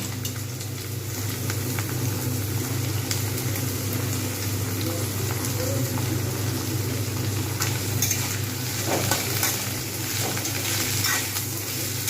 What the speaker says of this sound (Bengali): আমি এর মধ্যে এবারে বাঁধাকপির পাতাগুলো দিয়ে দেবো